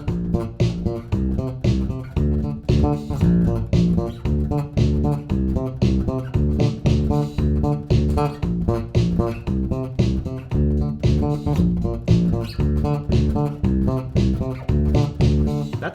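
Bass guitar plays the chorus of a disco song in bouncing disco octaves, a steady, evenly plucked rhythmic pattern played alone and close with no talking.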